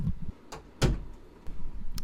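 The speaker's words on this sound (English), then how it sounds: "my cat is scratching at the door" A cat scratches and paws at a door indoors, giving several short scraping and thumping bursts, one louder bump in the middle, with no talking.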